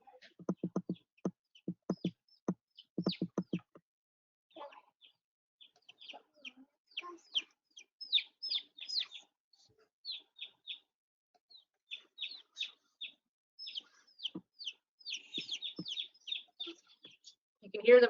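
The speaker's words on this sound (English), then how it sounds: "You can hear them chirping in the background" Newly hatching chicks chirp in high, short peeping calls scattered through the stretch, with a burst of lower clucks at the start; faint and intermittent, set against an otherwise quiet room.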